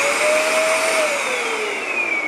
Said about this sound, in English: vacuum cleaner.